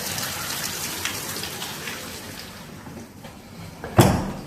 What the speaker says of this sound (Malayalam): ഈ വെള്ളം നിറഞ്ഞ് മൊത്തം ഒഴുകിയേക്കാണ്